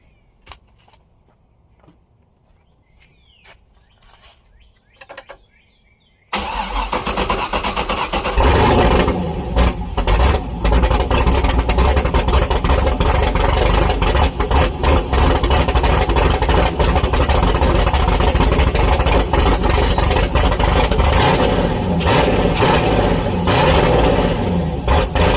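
Turbocharged LS-swapped Mazda Miata fires up after a few quiet seconds of shuffling, then holds a very loud, rough, steady idle close by, with no talking over it.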